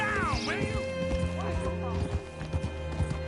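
Horse hooves clip-clop steadily in a PS4 video game, with a whinny near the start. Game voices and a steady musical drone sit underneath.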